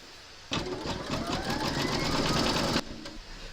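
Embroidery machine stitching fabric held in a hoop for a crazy patch notebook cover, a steady loud mechanical whir with rapid needle chatter running for about two seconds, starting and stopping abruptly.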